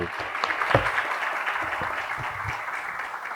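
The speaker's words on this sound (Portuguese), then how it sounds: "Ele larga o microfone e Afonso aplaude sorrindo." Applause from an audience at a talk event, a steady wash of clapping hands lasting a few seconds at moderate level, with one brief louder burst near the start.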